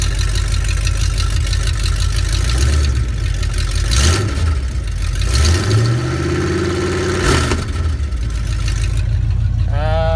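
A car engine idles up close with a steady, loud hum, with a couple of brief rising whirs partway through and a short voice near the end.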